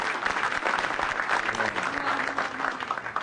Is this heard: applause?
yes